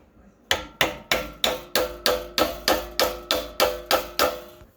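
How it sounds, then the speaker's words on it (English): Twelve sharp, evenly spaced hammer blows ring out close and loud, driving a tool in to loosen the flywheel on a 6.5 hp Honda clone engine, each strike decaying quickly before the next. "and hammer it in there just a bit."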